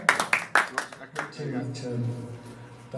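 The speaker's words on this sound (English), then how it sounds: "A big round of applause." An open mic audience gives a brief burst of scattered hand claps that quickly die away, and a voice then talks over the fading room noise.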